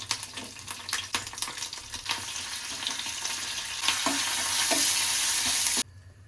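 Curry leaves sputter and crackle in hot oil in a pan, close and fairly loud, with a sharp hiss swelling partway through before cutting off abruptly, and no one talking.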